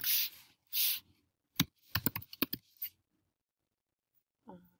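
Code being typed on a computer keyboard: several quick bursts of crisp key clicks with short pauses between them, then quiet with one last faint tap near the end.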